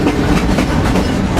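Freight train clattering steadily along the rails, a loud continuous rumble with rhythmic clickety-clack from the wagons, close by and without any voices over it.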